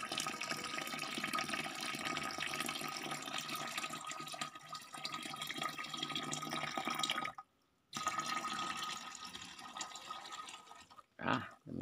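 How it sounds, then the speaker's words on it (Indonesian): Jadam sulfur fungicide solution pours steadily into a container, a continuous liquid splashing that runs for several seconds, breaks off briefly, then resumes before a final short gush. "Pelan-pelan kita tuangkan, hati-hati karena ini adalah larutan yang bahaya ya."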